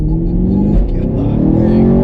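A sixth-generation Camaro SS V8 with manual transmission held at a loud, steady high rev with the clutch in for a launch control start, close and continuous for a couple of seconds.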